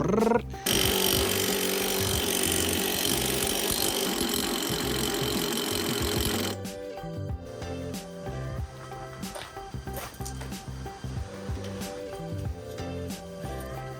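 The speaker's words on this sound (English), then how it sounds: "I'm gonna have to resort to trying to crank it using this top bolt here with a gun" An impact gun spins the top bolt to crank a broken lawn equipment engine, a loud close whirring burst that drops after several seconds into lighter mechanical clatter and rattling.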